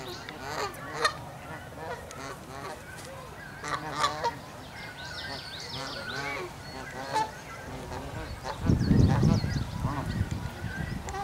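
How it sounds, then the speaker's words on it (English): Canada geese honking repeatedly, a dense overlapping flock chorus at moderate distance, with a louder burst of honks and wing or water noise near the end. "Canadian geese."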